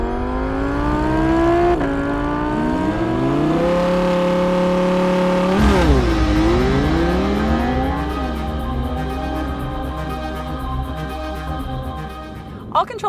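An Audi R8 Plus accelerates hard from a launch, its engine wailing loud and close and rising in pitch through several quick upshifts, each marked by a brief dip before it climbs again, then easing off near the end.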